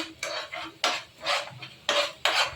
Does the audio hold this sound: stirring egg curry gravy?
yes